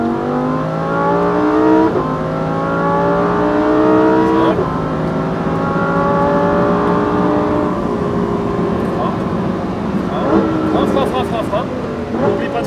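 A Lamborghini Huracan STO accelerating hard on a race track, its loud engine note climbing through the gears with sharp shift breaks and a continuous close, roaring drone, and a voice speaking over it in places.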